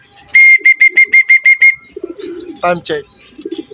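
A racing pigeon gives a run of eight or so rapid, evenly spaced whistling notes, followed by softer cooing and chirps, with someone briefly speaking.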